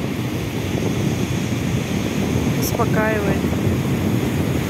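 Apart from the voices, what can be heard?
sea waves splashing on shore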